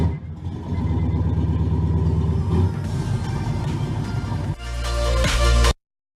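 2015 Ford Mustang EcoBoost engine producing a steady low rumbling drone from inside the car, swelling louder and rougher near the end before cutting off abruptly.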